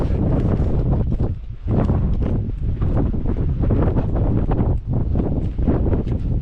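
Strong wind gusting against the microphone in loud, buffeting rumbles, easing briefly a couple of times before roaring back.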